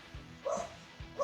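A dog barks in a backyard, two short, fairly faint woofs about half a second apart, heard from a short distance with nothing else around them.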